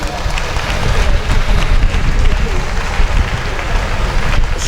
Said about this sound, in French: Et ça s'applaudit s'il vous plaît.